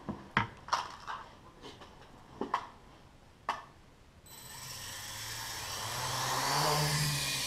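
A Blade 180 QX RC quadcopter lifts off after a few sharp clicks and taps, then its motors spin up into a steady, loud, high whine that holds and builds slightly while it hovers close by; no one speaks.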